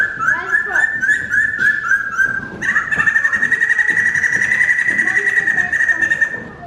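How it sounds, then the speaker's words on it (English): A laughing thrush at Chester Zoo gives loud, close, repeated whistled calls, a bouncing series of notes that runs into one long sustained whistle, heard on a rainy day with no talk over it. "That would be why they're called laughing thrushes."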